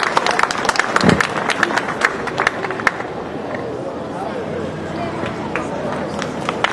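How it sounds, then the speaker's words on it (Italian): An audience at an evening presentation of local short films breaks into applause after a screening; a burst of sharp, close claps fades into a softer patter with murmuring voices and crowd chatter underneath. "applauso meritatissimo per il divertentissimo Il Pomodoro"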